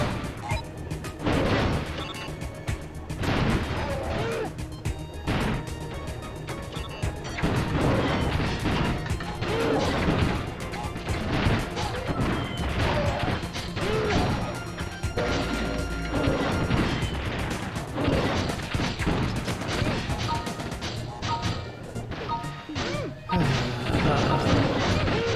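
Dense, rapid explosions and crashing impacts from bombs in the Crash Bash video game fill the whole stretch loudly and continuously, with the game's busy soundtrack running underneath.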